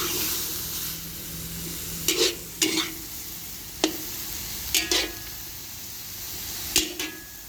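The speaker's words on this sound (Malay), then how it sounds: "Stir fry pak choy ataupun pak choy goreng kilah." Pak choy being stir-fried in a pan, with a steady low sizzle and several sharp scraping clatters of a utensil against the pan spaced a second or two apart, close by and without talk.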